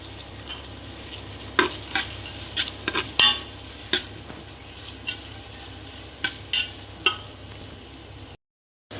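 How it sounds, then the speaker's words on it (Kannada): Onions fry in a pan until light brown, giving a soft, steady sizzle, with a spoon now and then scraping and stirring in sharp, irregular bursts before a brief break in the sound. "ನಸು ಕಂದು ಬಣ್ಣ ಬರುವ ಹಾಗೆ ಫ್ರೈ ಮಾಡಿ."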